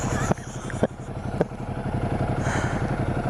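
A dirt bike engine runs steadily throughout, with a continuous mid-range motorcycle drone and a few sharp clatters or knocks over the top, heard while riding outdoors.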